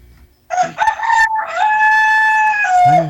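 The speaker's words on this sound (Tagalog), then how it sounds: "Manok." A rooster crows once, loud and close, a clear drawn-out cock-a-doodle-doo rising and holding a long note before trailing off, alone without talk.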